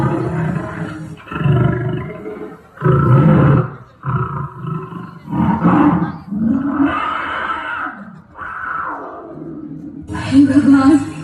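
Wild animals in a dark forest let out a string of deep, loud roars and growls, about a dozen rough bursts rising and falling in close succession.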